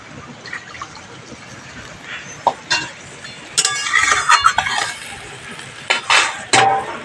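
Water is poured into spiced masala frying in a pan, giving clinks of metal, a splash and a sizzling hiss that rise sharply midway, with bursts of loud sputtering near the close.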